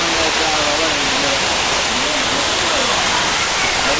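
Jalagampari falls in Tirupathur district, a tourist waterfall fed by hill water, roars as a loud, dense, steady rush of falling water that fills the whole clip with no pauses.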